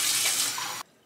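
Tap water runs steadily into a pot for cooking macaroni, a close hissing splash that cuts off abruptly near the end, then a brief faint burst afterward.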